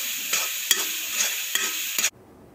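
Chopped bananas stirring and sizzling in a hot pan for banana halwa, with steady frying hiss and a few scraping spatula strokes, close and alone until it cuts off abruptly near the end.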